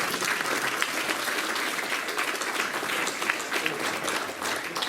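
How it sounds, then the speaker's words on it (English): Sustained applause from a conference audience at a 2015 UFO event, dense clapping from many hands filling the room, steady and fairly close, with no one speaking over it. "A round of applause to yourself for sticking through it."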